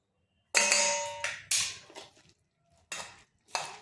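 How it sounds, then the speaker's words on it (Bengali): Spinach and potato with sugar, chilli powder, turmeric and chaat masala being mixed in a pan: five sharp, close metallic clinks of a spoon against the pan, each ringing briefly before silence, with no voices. "এরপর এই উপকরণগুলি ভালোভাবে মিশিয়ে নিচ্ছি।"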